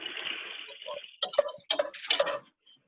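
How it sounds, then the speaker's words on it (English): A kitchen tap runs briefly as coconut milk is rinsed off hands while cooking braised leeks with chicken, followed by close speech with small clicks and clatter. "I gotta wash that coconut milk off my hands"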